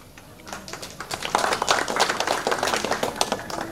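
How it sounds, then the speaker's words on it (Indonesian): A crowd claps for a guest at an installation ceremony in a tongkonan in Toraja, scattered hand claps swelling into steady applause of many people. "Kita berikan tepuk tangan kepada hadir juga di sini Pak Sigit, Ketua OK"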